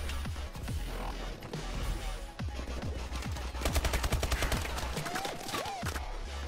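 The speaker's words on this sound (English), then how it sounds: "One of our teammates wanted to win a gunfight." Gunfire fills a video game firefight, with rapid automatic bursts and scattered single shots cracking close and loud, densest toward the middle, and no talking over it.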